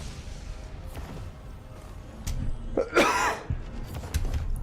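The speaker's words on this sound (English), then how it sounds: "I meant to mute my mic there, but you got a cough." A single cough from a gamer at a microphone during a game session stands out around the middle, a short rough burst over a steady low hum of background sound.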